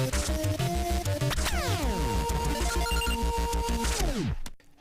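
An electronic phone ringtone plays loudly, a repeating melodic ringing pattern with descending tones, cutting off abruptly near the end.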